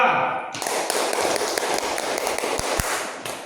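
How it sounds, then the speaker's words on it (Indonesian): Classroom group applause for a presenting student group, a dense burst of clapping from many hands that starts abruptly and continues steadily at close range. "kita tepuk tangan untuk kelompok 2"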